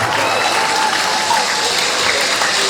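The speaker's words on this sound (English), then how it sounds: "Celebrate him with a big round of applause" Dense, steady applause from a large crowd at a senior secondary school programme fills the whole stretch, a continuous wash of clapping at full strength.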